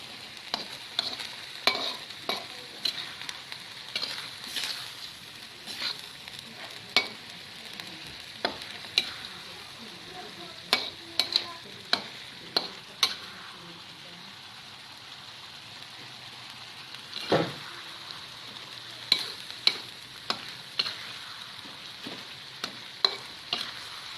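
Sate padang spice paste fries dry in a pan while being stirred constantly. Soft sizzling runs under repeated scraping clicks and taps of a utensil against the pan, close and fairly quiet, with no talking.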